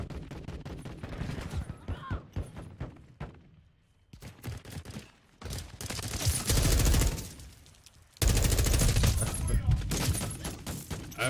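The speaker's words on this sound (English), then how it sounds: "I was shooting that." Video game shooter gunfire in rapid bursts and sustained volleys, loud and close, with quieter gaps and reloading between strings of shots, and a voice talking over parts of the action.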